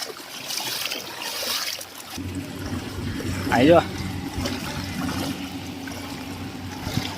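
Floodwater from heavy rain runs through a village street in Itadra, Gujarat, a steady close wash and trickle of moving water, with someone talking over it and a brief splash partway through.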